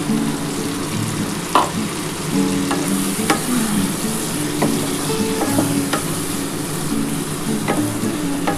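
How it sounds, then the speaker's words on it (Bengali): Chicken frying in a pan with spiced water just poured in, sizzling steadily with a broad hiss and occasional sharp clicks of stirring, close and continuous with no talk. "এই যে মশলার জলটা আমি দিয়ে দিলাম"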